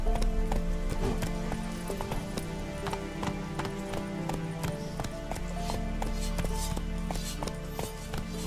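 Roach, the horse in The Witcher 3, gallops in a fast, driving rhythm of clattering hoofbeats, loud and close over a constant layer of game music.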